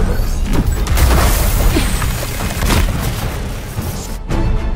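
Missile explosions during a cutscene in the video game The First Descendant, heavy booming blasts layered into a dense, loud rumble that holds for several seconds and then thins out near the end.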